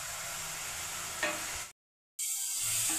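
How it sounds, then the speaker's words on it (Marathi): Onions and cumin frying in oil in a pan, a close steady sizzle with a brief stir, cut by a short gap of silence before the hiss resumes. "कांदा बघा थोडासा परतला गेला।"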